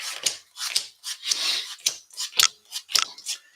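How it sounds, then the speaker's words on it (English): A run of crisp, papery bursts in quick succession as a deck of game cards is riffled and shuffled close up, with several short flurries and brief pauses between them. "shuffle the encounter deck"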